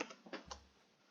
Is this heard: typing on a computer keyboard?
yes